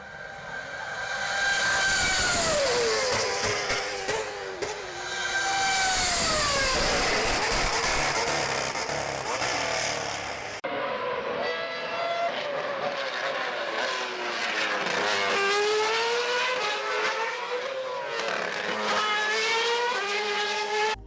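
A Red Bull Formula One race car engine screams at high revs, its pitch rising and falling through gear changes as it passes, loud and continuous throughout.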